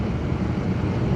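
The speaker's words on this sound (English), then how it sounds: "a lot of wind here." Strong wind blowing across an open, very windy stretch of LA County, a steady loud rumbling roar buffeting the microphone throughout, with no voices.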